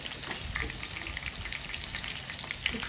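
Steady, crackling sizzle of chicken pakora deep frying in hot oil, continuous and close, with small pops scattered throughout and no voices.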